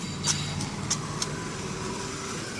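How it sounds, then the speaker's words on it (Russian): A car rolls backward close by on a street in Jesolo, Italy, its engine a steady low rumble with a few sharp clicks and ticks on top. "Машина назад едет, ходим."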